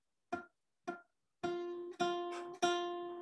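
A single guitar string picked repeatedly while the fretting finger slowly presses down: first two dull, muted plucks, then three clearer ringing notes as the pressure increases, close and alone.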